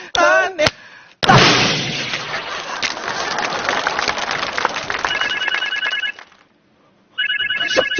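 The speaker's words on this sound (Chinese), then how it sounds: "你们经理电话，你们经理的电话" A telephone rings on a comedy stage, its repeated electronic trill cutting in after a loud burst of crowd noise and shouting, pausing briefly, then ringing again.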